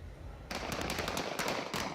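Rapid bursts of gunfire crack in quick succession during an attack on a police station in Fortaleza, a loud, dense volley of shots following a brief quiet start.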